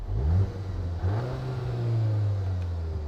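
A CUPRA Leon hatchback engine in sport drive mode holds a steady low drone with a rising rev, loud and close, with no voices.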